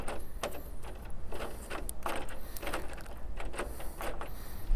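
A screw on the end bolt guide of a Marvin bifold door is driven out, heard as short, uneven bursts of mechanical whirring and creaking, moderately close, with no speech.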